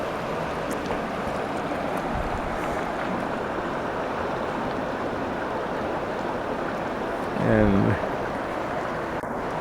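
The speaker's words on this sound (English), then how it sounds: "another creek that comes in from right there" A mountain creek in the High Sierra near Junction Meadow rushes steadily as a broad, constant wash of flowing water throughout, with a brief spoken word near the end.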